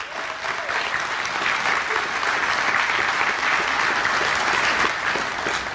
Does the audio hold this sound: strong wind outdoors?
no